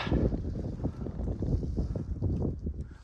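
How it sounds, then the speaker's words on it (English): Wind buffets loudly outdoors, a low, rough rumble that rises and falls in gusts with no voices. "we've just come into the wind, so suddenly it's getting a lot chillier"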